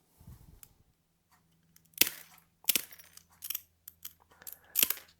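SeaBell double-wheeled glass nippers bite through iridized glass, giving a string of crisp, close snaps and small clicks as shards break off, some louder cracks among quieter ticks.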